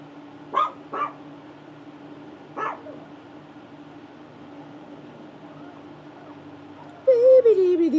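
A dog barks indoors in a home: two short barks close together, a third a moment later, then quiet room tone until a voice starts at the end.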